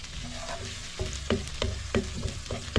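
Ginger and onion sizzle and fry in a pan with a steady hiss, broken by several sharp clatters of stirring at irregular intervals, close and moderately loud.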